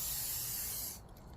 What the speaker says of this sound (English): let's spray a little bit on here